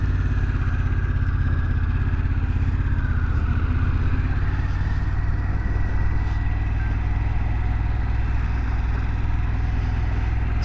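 Motorcycle engine running steadily just after starting, a loud continuous low rumble that holds at an even level throughout with no talk over it.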